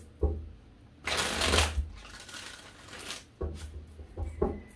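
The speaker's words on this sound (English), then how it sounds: "So I'm going to give this 5 shuffles for you" Tarot cards being shuffled in two bursts of riffling, a long one followed by shorter flurries, close up and fairly quiet with no talking.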